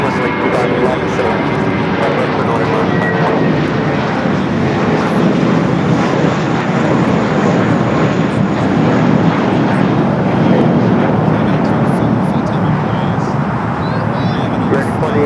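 An Alaska airliner takes off from runway 25 left at Los Angeles International Airport, a loud continuous jet engine roar sustained throughout, with radio voices faintly over it.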